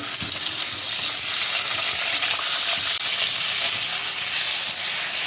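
Pointed gourd (potol) frying in hot mustard oil in a kadai, a steady loud sizzle and hiss that runs unbroken throughout, with faint stirring clatter underneath.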